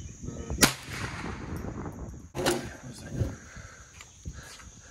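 Gunfire at an outdoor shooting range, with two sharp loud shots a couple of seconds apart and quieter noise and people talking between them.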